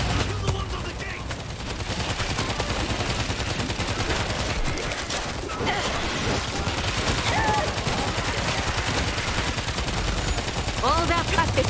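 Continuous rapid gunfire at zombie hordes at a gate in the video game World War Z, shots rattling throughout with dense crowd noise and faint shouted voices mixed in.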